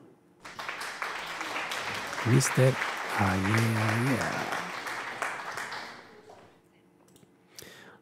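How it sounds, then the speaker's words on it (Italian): An applause sound effect plays during a House Flipper game session, a dense burst of clapping lasting several seconds before fading out, with someone speaking over it. "La regia, applausi."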